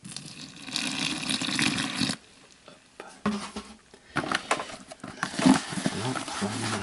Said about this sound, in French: On va y mettre un peu d'eau.